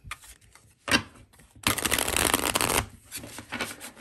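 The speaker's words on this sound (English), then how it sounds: "I'm one of those riffle shufflers" A deck of tarot cards is riffle shuffled, with a quick flutter of flicking cards rising into a dense riffle of about a second, then softer taps and handling as the deck is squared.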